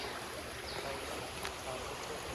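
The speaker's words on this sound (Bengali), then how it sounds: "এই দেখেন পাহাড় থেকে পানি নামতেছে" Rain-fed floodwater pours down from the hills through a small stream, a steady, close, broadband rush of flowing water with no break.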